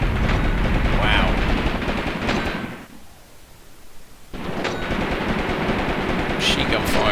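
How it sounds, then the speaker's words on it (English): Sustained machine gun fire in a strategy video game battle where KV-1 tanks and infantry fight over a control point, loud and dense, cutting out for about a second and a half midway before resuming. "Machine gun fire going into my infantry now."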